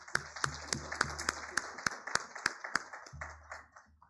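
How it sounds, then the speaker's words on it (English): A small audience at a space industry conference claps to welcome a dignitary, giving a sparse, uneven scatter of individual hand claps that sounds fairly quiet and close, over a low background hum. "may I request to kindly welcome our dignitary with a round of applause."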